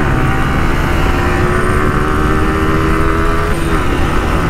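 Loud, steady engine-like drone from a 250R motorcycle, with tape fitted on the bike flapping in the wind to mimic a superbike sound; a continuous roar with no pauses and no talking.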